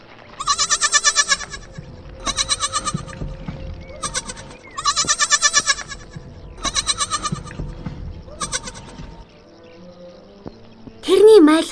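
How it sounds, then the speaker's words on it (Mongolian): A young goat kid bleats in repeated bursts of several pulsed cries, loud and close, in a children's tale about a little blue kid lost from its mother among rocky cliffs, followed by a brief voice at the end. "Тэрний майлах дуу хад цохионд цуурайтлаа"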